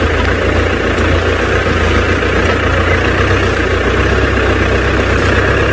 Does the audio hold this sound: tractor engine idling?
yes